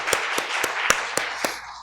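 A church congregation claps in praise with a short run of evenly spaced, crisp claps in a steady rhythm, moderately loud and fairly close.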